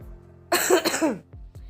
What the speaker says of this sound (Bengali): এই সময় কাশি হচ্ছে